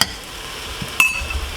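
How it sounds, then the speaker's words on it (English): A spoon stirs Haitian cornmeal with epis in a cooking pot, a soft scraping with one bright metallic clink partway through, close and quiet with no voice. "We're going to give it another quick stir."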